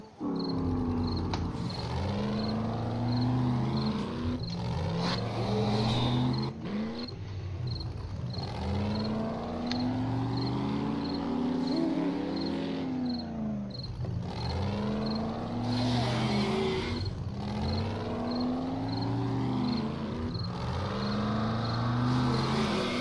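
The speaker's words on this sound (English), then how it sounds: "Cruising now. Just driving through town." A vehicle cruising through town in 7 Days to Die, its steady engine hum rising and falling in pitch with repeated gear-like sweeps and a faint regular ticking throughout.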